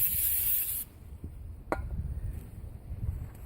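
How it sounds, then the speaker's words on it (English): Brake cleaner sprays onto Toyota Sienna brakes in one loud, close hissing burst that cuts off abruptly, followed by a sharp click and quieter rubbing and handling noises. "That is the one that you use, a brake cleaner."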